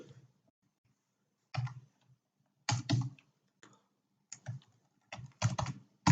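Bursts of typing on a computer keyboard, close and crisp key clicks arriving in short irregular clusters separated by quiet pauses.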